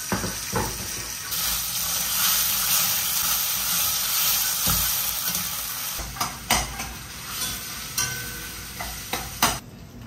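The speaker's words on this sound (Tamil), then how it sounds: "ஒரு தக்காளி ஓரளவுக்கு வதங்கிடுச்சு." Tomatoes sautéing in a pan for Bombay chutney, with steady close sizzling and hissing broken by the scrape and clink of a spoon stirring against the pan, no talking.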